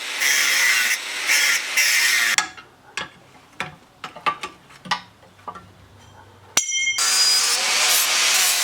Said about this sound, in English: First thing we're going to do is remove the factory lock stop by just grinding the welds off.